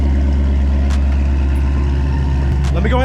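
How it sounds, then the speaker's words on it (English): A Ford Mustang GT350 V8 idles loudly and steadily at close range, with a deep, continuous rumble that lasts the whole stretch. "This car's loud as hell."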